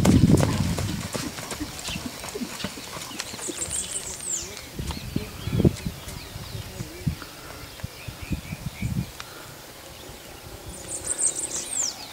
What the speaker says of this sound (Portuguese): Cavalo alto, inteiro. Será futuro garanhão.